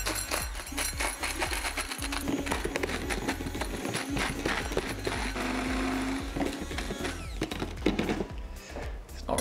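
Dry homemade modelling compound powder, a Sculptamold substitute, being ground by a power tool: a loud, steady mechanical whir with rapid rattling pulses throughout, with no voices.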